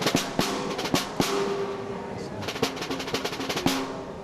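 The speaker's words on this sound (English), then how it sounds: "all of a sudden you have that crisp snare sound" Sharp, crisp Ludwig snare drum hits with a buzzing rattle from engaged snares, struck in a loose irregular pattern up close, some in quick flurries.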